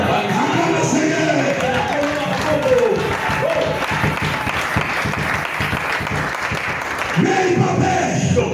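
A church congregation breaks into loud, sustained applause and cheering that fills the space for several seconds, with voices mixed in, swelling again near the end.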